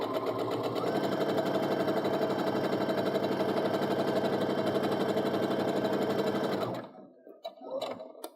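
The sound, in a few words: sewing machine stitching a quilt seam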